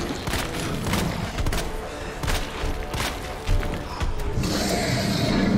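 A busy stretch of Resident Evil 2 gunfire, with repeated sharp shots and thuds over a dense background of game noise.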